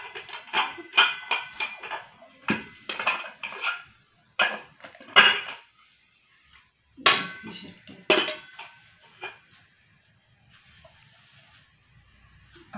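Metallic clanks and clinks of a stainless steel pressure cooker and lid being handled, in irregular bursts with short silences between.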